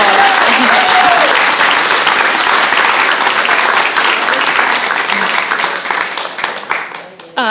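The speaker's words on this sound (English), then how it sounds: "Another round of applause." Sustained, loud applause from the audience at a Guide Dogs for the Blind class graduation, dense clapping that holds steady and then tapers off toward the end, with some voices under it.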